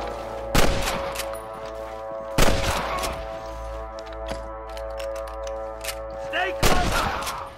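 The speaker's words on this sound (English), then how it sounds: "More gunshots." Gunshots ring out in the Red Dead Redemption video game, three loud, sharp reports spaced a few seconds apart over a steady tonal background hum.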